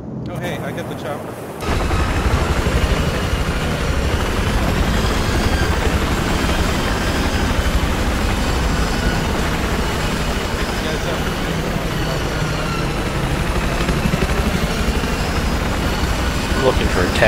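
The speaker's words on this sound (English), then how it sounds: "Oh hey, I get the chopper." Steady, loud helicopter rotor thumping and engine drone in Battlefield 4, continuous and close, starting abruptly after a brief quieter moment.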